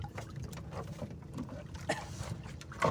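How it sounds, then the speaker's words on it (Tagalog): Small waves lapping against a fishing boat at dusk in a mangrove area, soft irregular sloshes and knocks against the hull, close and gentle, with light wind noise and a few sharper splashes near the end. "Medyo may alon mga kamangrove."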